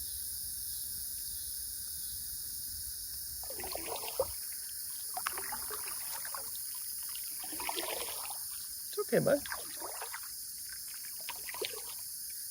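Water drips and trickles off a rowboat paddle on a fishing outing, soft intermittent splashes over a steady insect drone, with a brief calm spoken reassurance.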